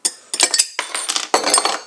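Ice cubes tumble from a small metal bowl into a mug, giving three bright, close clattering bursts of clinks separated by short pauses, with no voices.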